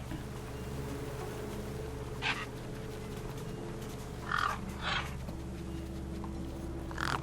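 Crows cawing in Beyond a Steel Sky, a few short harsh calls spaced apart over a steady low ambient hum, moderately near but not loud, no voices.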